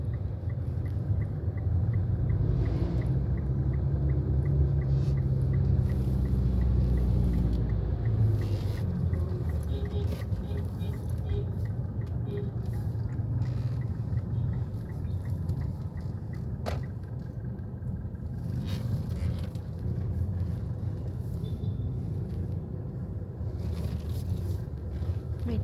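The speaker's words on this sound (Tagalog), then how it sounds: "O yan, na traffic na papuntang Antipolo oh." Road traffic heads toward Antipolo near Taytay, a low, continuous rumble of passing vehicles with wind buffeting the microphone and occasional faint clicks, heard at moderate distance.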